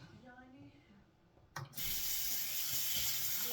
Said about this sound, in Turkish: elimizi yıkayacağız arkadaşlar. Yıkıyoruz.